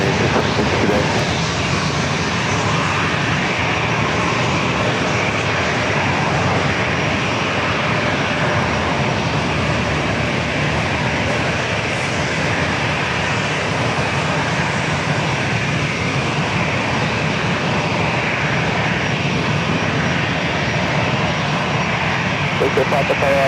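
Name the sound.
airplane taking off on runway 27 at San Diego airport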